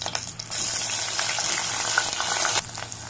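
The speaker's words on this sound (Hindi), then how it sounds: "अब हम इसमें जो पनीर के क्यूब थे उसको डाल के 1 से 2 मिनट तक फ्राई करेंगे।" Paneer cubes hit hot oil in a kadai and burst into a loud, steady sizzle that holds close for about two seconds before dropping off.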